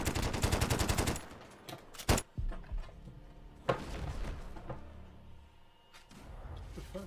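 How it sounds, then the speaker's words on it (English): A submachine gun fires in Call of Duty, with a rapid loud burst at the start, a sharp blast, then scattered shots and thuds through the game mix. "SMG"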